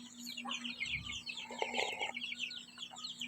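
Chickens cluck close by a house, a few soft, short clucks over a constant hum and faint background noise, with no talk.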